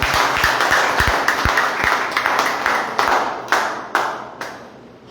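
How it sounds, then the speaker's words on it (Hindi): Congregation at a Sunday evening church prayer service clapping loudly together, a dense, sustained burst of many hands that rings out for several seconds with no talk over it. "क्यों ना हम लोग एक बार फिर जोरदार ताली बजाएं।"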